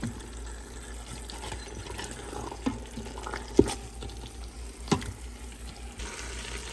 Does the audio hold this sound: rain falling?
no